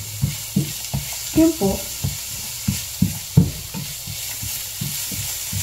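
Food fries in a pan and gets stirred, giving a close, steady sizzle cut by regular scraping and clattering knocks from the utensil, with a few brief spoken words.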